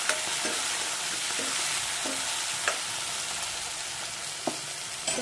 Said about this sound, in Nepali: यसमा म अब 2 मिनट जति फ्राई गर्छु।